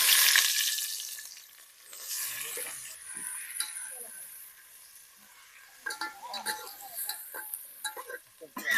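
Onion drops into hot oil already holding cinnamon, star anise and a few leaves while kala mutton is being made. A bright sizzling hiss bursts up first, then settles into steady frying with occasional clattering stirs.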